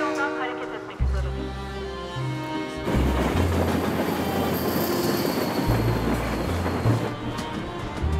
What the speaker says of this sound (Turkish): Ankara Konya yönüne gidecek olan trenimiz 4. perondan hareket etmek üzere